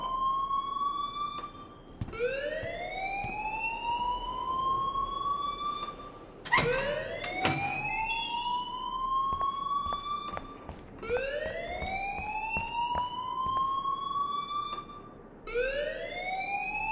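A school alarm wails in the video game Life is Strange, its rising electronic tone repeating in long sweeps about every four to five seconds, loud and insistent, with a few sharp clattering hits partway through.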